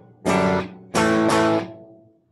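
Distorted electric guitar plays a short chord riff: one crunchy chord, then two more in quick succession, each ringing briefly and cut off, close and loud with no voices.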